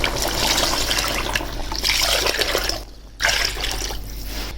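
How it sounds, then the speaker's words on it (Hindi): Water poured steadily into a pot of chicken karahi, a loud continuous splashing trickle that breaks off briefly, then resumes. "अब इसके अंदर हम पानी ऐड करेंगे।"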